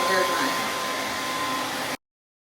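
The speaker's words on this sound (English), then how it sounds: "So I did a little blow drying outside of the little blow dry tool." A hair dryer hood blowing on a molded pixie cut, a steady loud whooshing roar close by that cuts off abruptly into silence near the end.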